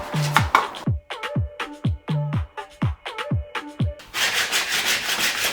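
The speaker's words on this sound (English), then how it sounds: "Okay, so when I'm just sanding it to make it a bit smooth" Rough sanding on wood in quick back-and-forth strokes, close up, followed by a steadier continuous rasp at the end.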